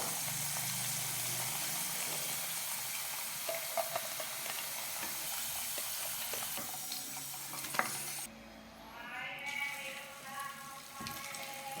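Potato pieces frying golden and crisp in oil, a continuous close sizzle with occasional stirring clinks that drops off sharply near the end, leaving quieter bubbling.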